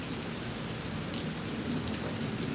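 Heavy rain pours steadily during a storm at Disney, a dense, even hiss of drops on surfaces with no voices.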